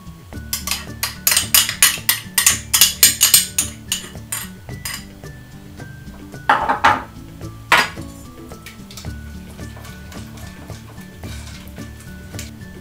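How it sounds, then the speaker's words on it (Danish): Pots and utensils clatter and scrape in quick bursts while honey and coconut oil melt together in a pot, with a soft sizzle and stirring sounds in between, close and alone. "Start med at smelte honning og kokosolie sammen i en gryde"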